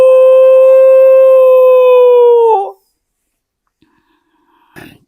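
A human voice imitating a dog's howl, one long sustained wavering tone held for over two seconds before cutting off, followed by near silence and a brief faint sound at the end.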